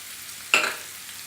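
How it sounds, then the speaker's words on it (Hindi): Chopped onion hits a hot frying pan with a sudden sharp sizzle that bursts up loudly and then fades over a fraction of a second, close up with no talking. "और इसके साथ में हम डाल देंगे अनियन"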